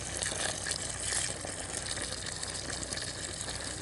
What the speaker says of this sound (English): See how much water I'm putting around this one, because it still has a decent enough basin left.